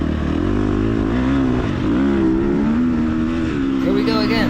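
An off-road race vehicle's engine is held at full throttle in third gear on a hot, dusty ranch course, making a loud, close, sustained roar whose pitch wavers slightly.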